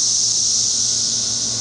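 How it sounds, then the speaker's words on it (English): A bucket packed with cicadas crawling over one another gives off a dense, continuous high-pitched buzzing drone, steady and close, with no talking. "that is a bucket full of cicadas crawling all over each other"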